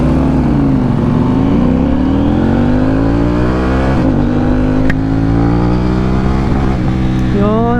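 KTM Duke 790 motorcycle with an Akrapovic exhaust accelerating hard, a loud close engine note climbing through the revs with quick drops at the gear shifts.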